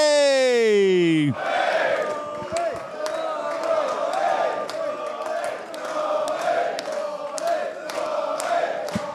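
Capacity football crowd at a season's end, loud and continuous, with chanting and cheering swelling throughout after a brief tonal intro.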